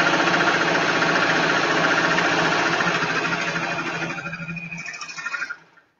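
A sewing machine running a straight stitch down a shirt seam toward the underarm, a loud, close, continuous mechanical whir and rattle that slows and fades before stopping abruptly, with no voices over it.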